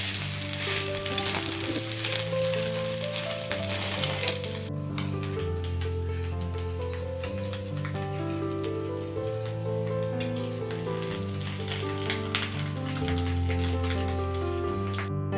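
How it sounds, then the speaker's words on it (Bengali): Egg toast shallow-frying in a small amount of oil gives a steady, bright sizzle throughout, partly masked by continuous background music with a strong melodic bassline. "খুব কম পরিমাণ তেল দিয়ে কিন্তু ডিম টোস্টগুলোকে ভাজা করছি"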